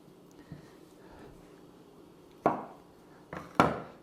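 A knife chops through soft gnocchi dough on a board, a few distinct close taps spaced apart, sharp and brief against an otherwise quiet kitchen.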